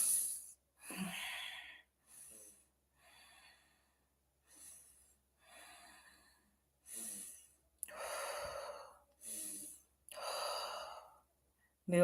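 Slow deep breathing exercise done with a hand resting on the diaphragm, a series of about nine separate breaths, each a clear airy inhale or exhale with short quiet gaps between, close and alone.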